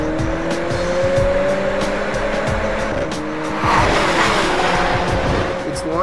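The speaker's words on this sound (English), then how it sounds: "the 45 accelerates impressively" A Mercedes-AMG CLA45 engine revs hard and climbs through the gears on a race track, with tire squeal and a voice talking over the roar.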